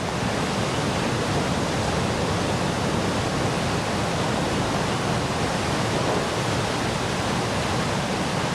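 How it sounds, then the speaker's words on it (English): Big ocean surf roars continuously along the shore near Hilo, Hawaii, as a loud, unbroken wash of crashing water with no distinct individual breaks. "Big surf coming in, man."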